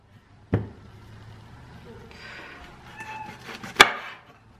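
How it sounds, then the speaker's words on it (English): A cat gives a few short meows, wanting to go out, mixed with kitchen knocks and chopping thuds in a quiet room. "my cat is starting to complain again, wants to go out."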